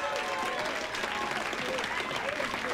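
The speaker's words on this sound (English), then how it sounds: "A round of applause, please." A classroom of students applauds continuously at moderate loudness, a dense patter of clapping with voices mixed in.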